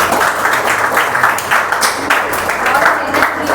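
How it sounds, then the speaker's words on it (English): Audience applause at a student valedictory function for a spoken English course, a steady dense wash of clapping from a crowd that holds at an even level throughout. "I think you should give them a big round of applause."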